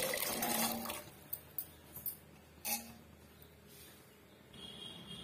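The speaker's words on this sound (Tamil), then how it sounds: "தண்ணியோட சேர்த்துக்குங்க" Water splashes and pours in short bursts into a pot of chickpea curry (chana masala), a gush at the start followed by several brief sloshes, close by and fairly quiet.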